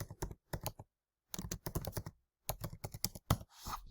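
Keystrokes of a command typed on a computer keyboard, arriving in quick clustered bursts with short pauses between words, close and fairly quiet, no talking.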